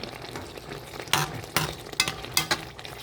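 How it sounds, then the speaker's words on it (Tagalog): Ginataan gulay of squash and string beans with sweet potato tops cooks in a pot with a soft bubbling sizzle, broken by a few sharp scraping or clinking bursts as it is stirred. "luto na ang ating gulay. Malapit nang maluto."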